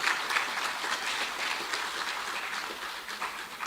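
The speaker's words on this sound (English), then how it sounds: "I want to put your hands together and give a round of applause for Troy Agustin." An audience at an agricultural conference in Grenada claps in a soft, even, continuous round of applause that lasts a few seconds, heard from a distance with no one speaking.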